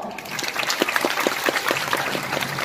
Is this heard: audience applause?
yes